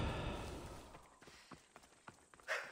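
Horse hooves clip-clop on the ground in the Assassin's Creed Odyssey video game, a few irregular, fairly quiet thuds spread over a faint steady background, ending in a brighter burst.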